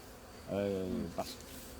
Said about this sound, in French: Vous voyez, il y a plein d'abeilles qui restent dedans.